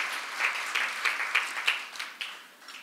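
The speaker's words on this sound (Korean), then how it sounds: "박수 한번 쳐주시기 바랍니다." An audience in a church service claps together, a brief round of applause with a loose rhythmic pulse that fades out after a few seconds, no speech over it.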